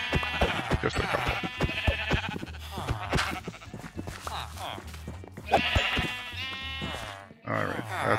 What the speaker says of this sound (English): You don't mind if I take a couple of sheep, do you?